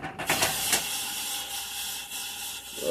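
A hot object sits in water and boils it. A continuous close hiss and sizzle holds throughout, with a few sharper pops and bursts at the start, and no one speaks.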